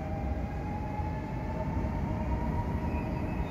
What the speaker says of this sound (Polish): Pociąg skończył bieg.